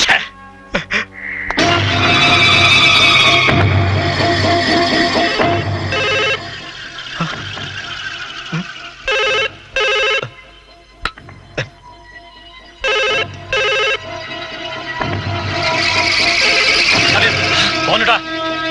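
A telephone rings repeatedly in a Hindi film scene. The short ring bursts come in a steady rhythm, mixed with music and dialogue.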